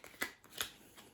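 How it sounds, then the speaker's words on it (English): Playing cards being dealt out to players in a card game, with three quick, soft, crisp flicks of cards landing, close and quiet. "you're going to deal out 6 cards per player if you're doing 2 to 4 players"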